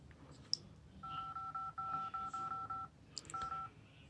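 Nokia 6 phone dialer keypad sounding a short series of clean two-tone beeps, close and fairly quiet, with a brief pause before a final tone.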